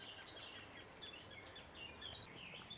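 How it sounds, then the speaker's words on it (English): Birds sing along the River Ouse in Cambridgeshire, with faint, distant chirps and short phrases scattered over a quiet outdoor hush and no voices. "And you can hear all the bird songs back now."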